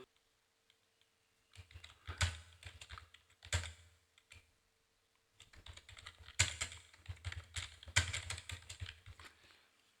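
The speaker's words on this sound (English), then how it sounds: "now in the caption you need to type here," Computer keyboard keys clacking as a caption is typed in a word processor, in several bursts of rapid keystrokes separated by short pauses, close and fairly quiet.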